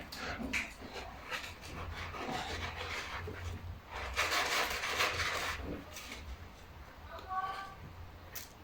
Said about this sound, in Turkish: Bak buradaki de eşelemeye başladı. Kumu eşeliyor.